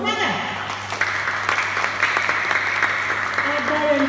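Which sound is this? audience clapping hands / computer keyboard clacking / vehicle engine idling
audience clapping hands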